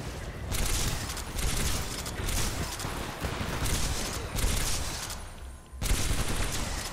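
Rapid, sustained gunfire from the video game Titanfall 2 rattles on without pause, loud and dense, broken by short gaps and heavy bursts.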